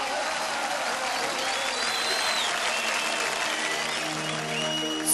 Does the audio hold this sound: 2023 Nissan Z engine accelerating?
no